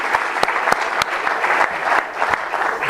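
Loud audience applause with cheering at a French public gathering, a dense continuous wash of clapping and crowd noise with sharp individual claps standing out throughout.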